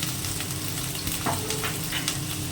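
Ginger and garlic paste fries in a pan for a barbecue-style wings dish, giving a loud, continuous sizzle with occasional stirring scrapes and no talk.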